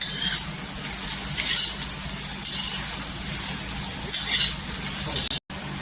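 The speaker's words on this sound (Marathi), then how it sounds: "हिरव्या मिरच्या 2 ते 3 घेतलेल्या आहे आणि तव्यावर छान अशी भाजून घ्यायचं" Green chillies and cluster beans roasting on a hot griddle give a steady, close hiss of sizzling with faint stirring scrapes throughout, and a brief dropout near the end.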